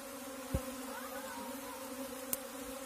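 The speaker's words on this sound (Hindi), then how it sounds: "तो आप देख सकते हैं किस तरह मधुमक्खी का स्वर्म बैठ रहा है" A small swarm of honeybees settling gives off a quiet, steady droning hum, with a couple of brief soft clicks.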